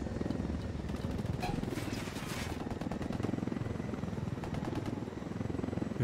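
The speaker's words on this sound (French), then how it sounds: "Vu qu'on a un hélico." A helicopter in the video game Ghost Recon Wildlands makes a loud, continuous rotor chop and engine whine close by. Its rhythmic thumping stays steady throughout, with faint brief crackles in the background.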